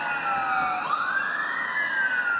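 Fire engines and ambulances wail with their sirens during a large wildfire near Omiš, a loud, steady rising and falling tone with overlapping sweeping pitches close by.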